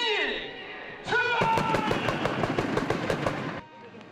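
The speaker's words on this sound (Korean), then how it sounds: "출발을 알리는 폭죽 소리와 함께 힘찬 레이스를 시작한 마라토너들" A rapid burst of sharp crackling firecracker pops signalling a marathon start, a dozen or so in quick succession, loud and close, with a voice speaking just before they begin.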